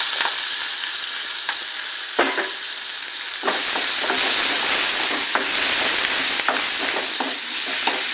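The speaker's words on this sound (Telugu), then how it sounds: "ఇవి కొద్దిగా వేగాలి" Food fries in a pan with a dense, continuous sizzle and hiss, punctuated by light clicks and taps of stirring, close up and without talk.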